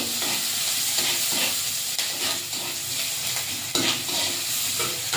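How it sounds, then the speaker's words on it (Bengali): Onions fry with fish and black cumin seeds in a pan for a bitter gourd and potato fish curry, a dense, steady sizzle broken by irregular stirring scrapes and a few sharper knocks. "মাছ ভাজতে ভাজতে পেঁয়াজটা ভাজা ভাজা করে নেব"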